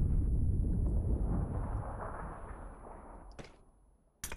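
A grenade blast in a first-person shooter game, a loud, deep rumbling boom that swells and slowly fades over several seconds, followed by a couple of sharp clicks and a sudden burst at the end.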